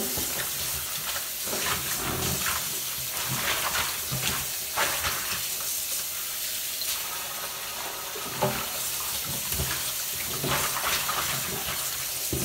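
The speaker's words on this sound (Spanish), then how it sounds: "Vamos a enjuagarla con agua tibia." Warm tap water runs and splashes in a kitchen sink while meat for menudo is rinsed, a continuous hissing spatter with occasional clatters and no voices.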